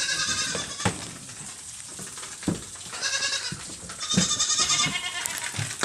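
Goats bleating in their pen as water is about to be brought to them, several short bleats from different animals at irregular intervals over a noisy farmyard background.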